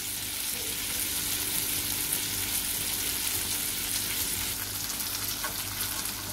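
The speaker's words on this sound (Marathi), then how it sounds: "अशा प्रकारे मी सगळे तळून घेते." Steady, loud sizzling of thin semolina-coated Chonak (Jitada) fish slices with masala frying in a pan, a continuous hiss with faint crackle and no talking.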